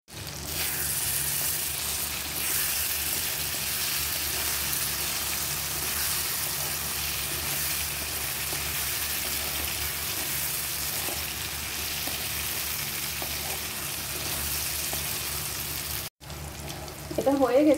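Fried eggs cook with onions in a pan, a long, steady, loud hiss like rain on a surface that cuts out briefly near the end, followed by a short burst of clattering.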